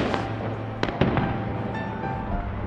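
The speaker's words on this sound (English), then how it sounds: "I think many are doing fireworks this time to welcome the New Year time" New Year fireworks in India burst and crackle in the distance, a dense continuous rumble of pops with a few sharper cracks standing out, no talk over them.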